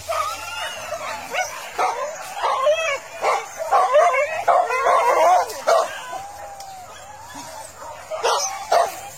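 A pack of hunting dogs on a wild boar hunt at Muaro Kalaban, Taragi, barks, yips, whimpers and howls in an excited, overlapping chorus, loud and close, with occasional human voices mixed in.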